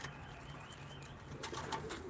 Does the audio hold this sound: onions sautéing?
no